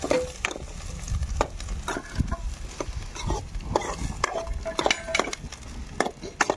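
Tomatoes and green chilies frying in a pan, with a steady sizzle and scattered clanks and scrapes of a utensil stirring, close by and moderately loud.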